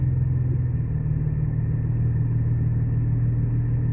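A 2001 BMW 325i E46 engine while the car turns: a steady, deep, even rumble with a low hum, heard from inside the car, loud and constant, with no speech.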